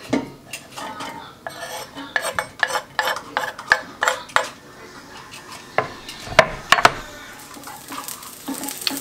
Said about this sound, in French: Alors je mets le feu et je vais faire revenir mes échalotes